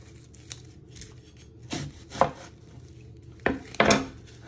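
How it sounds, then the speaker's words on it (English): Knife chopping off the ends of a vegetable on a cutting board while making Chinese chicken lettuce rolls, a few sharp close thunks in two pairs with quiet gaps between them. "And then you chop your other ends."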